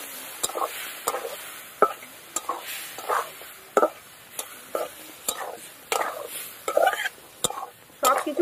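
Egg curry masala with new potatoes, turmeric, salt, coriander, cumin and chilli paste being stirred and sautéed in a pan, with repeated sharp spoon scrapes and clacks over a soft sizzle in an irregular rhythm.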